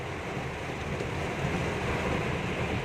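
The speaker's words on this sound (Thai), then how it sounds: "แรงมากนะครับผมทั้งลม ทั้งฝนครับผม" Strong wind and rain on the coast during a fishing trip: a steady, rough roar of gusting air and surf with wind buffeting the microphone, continuous and fairly loud, with no voices.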